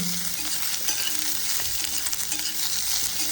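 Sliced onions fry in a pan with garlic and ginger, giving a steady, close hiss of sizzling oil and the faint scrape of stirring.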